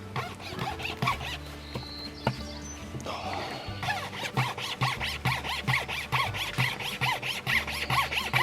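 A pocket saw, an abrasive wire with two rings, is drawn back and forth through a tree branch outdoors, making a steady, rhythmic rasping squeal with brief pauses between strokes.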